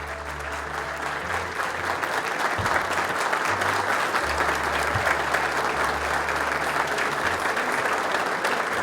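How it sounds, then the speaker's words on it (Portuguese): Audience applause, a sustained dense wash of clapping from a crowd that holds steady and fairly loud throughout, with low hum underneath and no voices standing out. "vamos dar uma salva de palmas de pés, à altura do que o Rodrigo merece"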